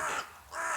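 Crow calling outdoors in a garden, two harsh caws with a brief gap between them, fairly close and clear with no talking.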